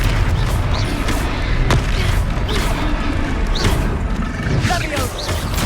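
The Confringo blasting spell in the video game Hogwarts Legacy sets off booming explosions over a dense, loud rumble of battle noise, with voices shouting in game dialogue and a swell of background music.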